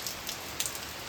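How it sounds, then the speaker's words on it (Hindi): Rain falling over open fields, a dense even patter of drops on surfaces, with a few sharper close drips standing out, steady and unvoiced. "यहाँ बारिश पहुँच रही है वहाँ की।"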